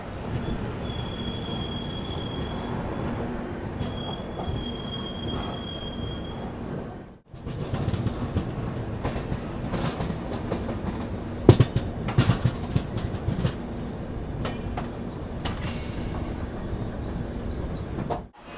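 Secunderabad–Tirupati Vande Bharat Express train arriving at Tirupati railway station, a loud steady rumble of rolling coaches with a thin whine, then a sharp cut to wheel clatter and screeching brake squeals near the platform.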